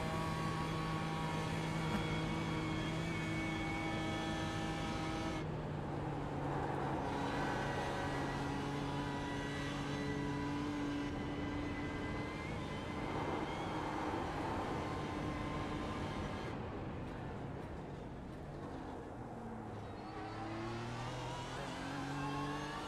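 A racing car engine in a video game drones steadily with tonal whines that shift pitch as it accelerates and changes gear, continuous and moderately loud.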